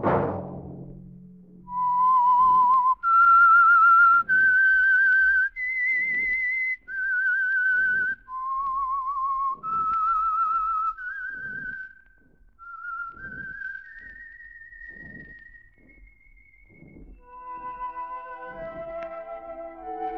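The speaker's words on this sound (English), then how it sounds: "That whistle be your signal for the Signal Oil program" The Whistler radio mystery theme: a solo whistled melody of sustained, gliding notes, rising then falling in a slow tune, clear and close with faint background texture.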